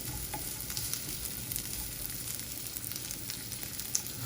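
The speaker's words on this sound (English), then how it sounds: "Just get some nice sizzling going" Finely cut thin vegetables sizzling hard in a hot pan during stir-frying, a dense, continuous close-up crackle with no talking.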